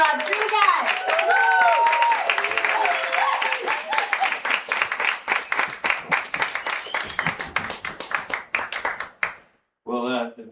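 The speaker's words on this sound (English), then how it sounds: "Please, everyone, a huge round of applause for Rey M. Rodríguez." A book launch audience in Los Angeles bursts into loud, sustained clapping that fills the room and then thins out into scattered claps before stopping, with a voice starting to speak just after.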